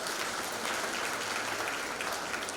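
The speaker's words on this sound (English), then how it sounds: "A big round of applause to the graduates" A graduation ceremony audience applauds the new graduates, a steady wash of many hands clapping, somewhat distant and even throughout.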